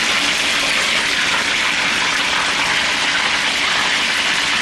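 Hot oil splashing and hissing while tempura fries, a continuous loud broadband sizzle holding steady without pause from start to finish.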